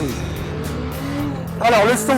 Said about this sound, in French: le dépôt d'échappement vous gratifie d'un bruit caractéristique du bicylindre